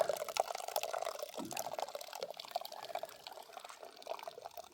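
Fresh juice from the first pressing of the year drains through the holes of a press into a bucket, making a continuous, soft, close trickle that carries on without pause.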